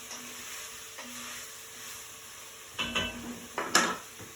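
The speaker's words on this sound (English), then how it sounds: "So you want to give that a stir." A spoon stirs split pea soup in a pot, soft scraping at first, then several louder clinks and scrapes against the pot near the end.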